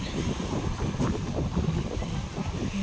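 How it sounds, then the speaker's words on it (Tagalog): Strong waves surge and wash against rocks on an island shore, a churning roar with wind buffeting the microphone, continuous and close. "Ang lakas na ng alon."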